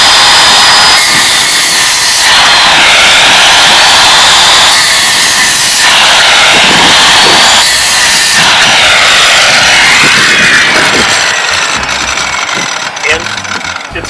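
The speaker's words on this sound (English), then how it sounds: "Not until I go ahead and fire up my saw." A power saw runs off a 2000-watt solar inverter fed by a battery bank, a loud, steady whine and roar that continues without a break and shifts pitch in sweeping bends as it cuts, then trails off near the end.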